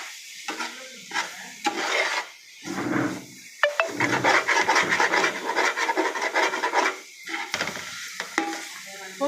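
Ginger garlic paste is scraped and stirred in a cooking pot for Chennai kalyana biryani, with repeated rasping bursts of spoon against the pan bottom, a faint sizzle underneath and short pauses between strokes.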